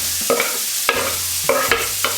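Onions sizzle in melted butter while being stirred for a butter chicken sauce, with spoon scrapes and clatters at a steady, close rhythm over a constant frying hiss.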